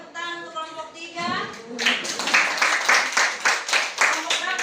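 A small class group claps hands after a speaker finishes talking, a loose run of moderately loud, closely spaced claps in a practice-teaching session.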